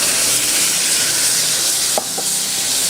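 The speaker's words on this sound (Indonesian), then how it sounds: "Sekarang kita mau tumis si bumbu halusnya." Ground spice paste sizzles loudly in hot oil for a Padang-style squid dish. The steady close frying hiss is broken by a couple of light utensil clacks, with no talking.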